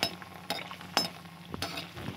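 Green chickpeas frying lightly in oil in a kadhai for nimona: a soft continuous sizzle punctuated by several sharp clinks and scrapes of a spoon against the pan, close and fairly quiet, no speech.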